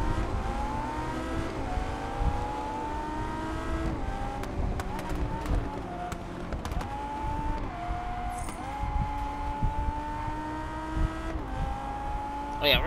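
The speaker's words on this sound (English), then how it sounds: "Ooh, I'm revving it, you know that?" Car engine revving and accelerating in the racing video game Test Drive Unlimited Solar Crown on PS5, a continuous loud engine tone rising and shifting through gears, with someone talking over it.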